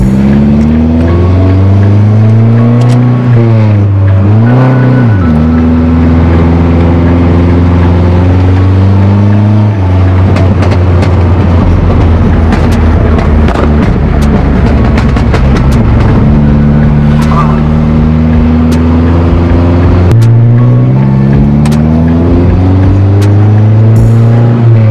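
Loud, close exhaust drone from a Nissan 240SX S13 fitted with a test pipe, rising and falling through the revs with a heavy low hum and a raspy surge in the middle, and no talking.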